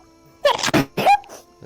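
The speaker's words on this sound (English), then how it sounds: "I sneeze really loudly So- and it's allergy season." A loud human sneeze, close and abrupt, breaking in two quick bursts with a faint murmur afterward, during an indoor tabletop role-playing game session.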